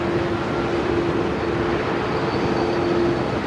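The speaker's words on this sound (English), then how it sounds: "the newest A220 in the QantasLink fleet just taxiing out for a departure" Airbus A220 jet of the QantasLink fleet taxiing out for departure at Melbourne Airport, a steady broadband engine roar with a faint whine, continuous and moderately distant, no talking.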